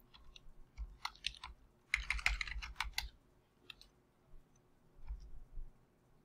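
Computer keyboard keys pressed while entering a formula in an Excel spreadsheet, heard as bursts of quick clicking typing with short pauses between clusters, fairly close and alone.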